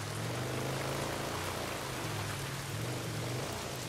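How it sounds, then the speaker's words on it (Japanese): Steady rain falls in the video game Days Gone, a constant soft hiss of water on surfaces at low volume with no voices. "まあ、雨降ってるしな。"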